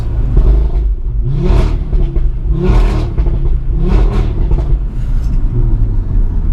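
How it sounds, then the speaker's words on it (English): A 2018 Audi RS3's five-cylinder engine revs hard several times in a row, with no rev limiter, a deep, throaty rumble rising and falling close by with no talking. "Let's give it some revs."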